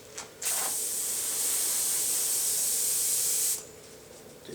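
A spray gun hisses out thin coats of DuraCoat finish onto Saiga 7.62 rifle parts in one steady, close burst lasting about three seconds, with brief quiet before and after.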